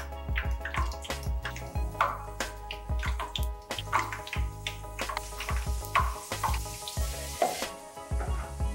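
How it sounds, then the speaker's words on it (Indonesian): Pastel pastries frying in hot cooking oil over medium heat: a steady close sizzle and crackle of bubbling oil, with a low, constant background hum. "Kemudian goreng secukupnya pastel dengan menggunakan api sedang."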